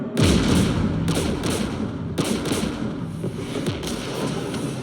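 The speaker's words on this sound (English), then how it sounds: "We're taking fire." Anti-aircraft gunfire in the Mass Effect game, a steady barrage of heavy booming thuds and bursts that repeat through the clip, loud and dense over rumbling low noise.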